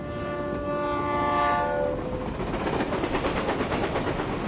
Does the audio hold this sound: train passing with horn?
yes